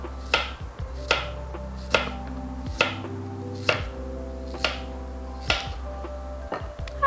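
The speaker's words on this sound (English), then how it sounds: "So I'm just going to slice the radish." A kitchen knife slices through a radish on a cutting board in even, crisp strokes, about eight clean chops spaced roughly a second apart, close and clear with no talking.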